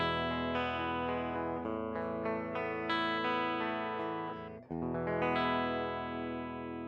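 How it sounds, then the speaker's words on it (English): A clean, dry 1981 Ibanez AS100 hollow-body electric guitar played through Guitar Rig 6 software, ringing chords and sustained notes that shift steadily, with a brief dip near the end before the strumming resumes. "So this is just a clean, dry guitar sound."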